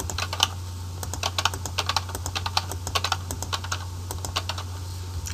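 Keys tapped on a computer keyboard while entering data into an Excel form, a quick irregular run of crisp close clicks over a steady low hum, with no voices.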